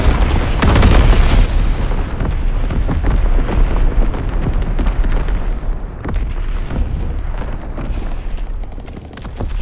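Artillery barrage in the video game Call of Duty WWII, loud overlapping booms and explosions rolling one into another without a break, dense and heavy from start to finish.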